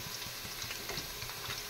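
Chopped onions fry in a pan for a bagan (eggplant) dish, giving a steady, soft crackling hiss with faint bubbling throughout, heard alone and fairly quiet.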